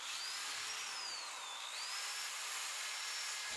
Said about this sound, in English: I've got a drill with a little grinding disc.